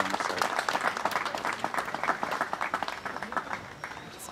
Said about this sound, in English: Are you ready for the clap?